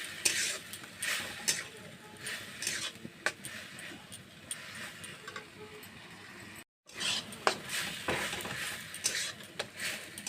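Ridge gourd with dry chilli powder and spices is sautéed in a pan, with frequent scraping and clinking stirs over a light sizzle and a brief cut of silence midway.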